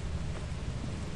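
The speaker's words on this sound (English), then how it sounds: "I think it's just rain." Steady rain hiss on a stormy level of the video game Lethal Company, a constant broadband wash with low rumbling underneath and no distinct thunder crack, playing alone without talk.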